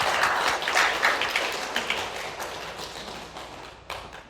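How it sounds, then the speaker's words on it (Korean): A church congregation applauds after the choir's hymn, a moderate wash of clapping that fades gradually over a few seconds. "우리 한 번 더 하나님께 영광의 박수를 올려드리겠습니다"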